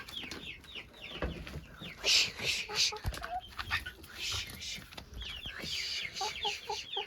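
Chickens clucking and calling inside a farmyard coop, with a dog barking now and then, repeated busy clucks and squawks close by, and a person speaking briefly in between.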